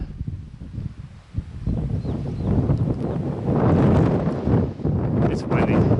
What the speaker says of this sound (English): It's windy. It died down for a little bit, but then it picked back up again.